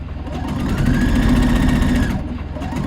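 A sewing machine stitching fabric pieces together at a sewing workshop, running steadily and loudly for about two seconds with a continuous motor whir, then slowing to a stop.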